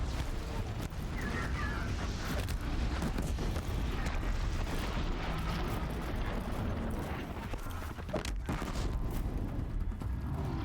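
Bombs exploding in the video game Horizon, a continuous loud rumble of blasts and crashing impacts with game noise and faint voice underneath.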